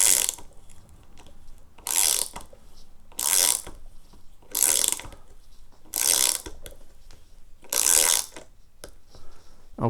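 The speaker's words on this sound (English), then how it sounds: "And then switch to the ratchet for the leverage that's needed." A ratchet drives a knife-threaded M6 insert into wood with six loud, evenly spaced bursts of rapid clicking and short quiet gaps between the strokes.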